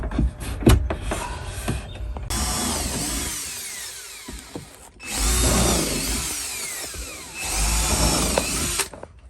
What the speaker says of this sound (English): We always pre-drill all of our holes on the wood before nailing